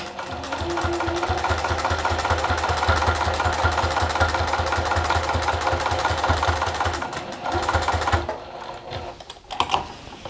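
A sewing machine stitches a thick scarf towel with a fast, even run of needle thumps and a mechanical hum, then stops near the end, leaving a few scattered clicks and handling noises.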